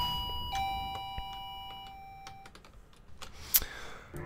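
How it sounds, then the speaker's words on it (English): A doorbell chiming, one clear ringing tone that fades, followed by scattered computer keyboard clicks and a sharp tap, all fairly quiet with no talk. "Oh, the doorbell."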